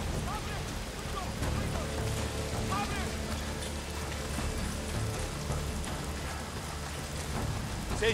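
Rain falls steadily in the video game Days Gone as a continuous wash of hiss, with a low rumble beneath it and someone talking over it throughout.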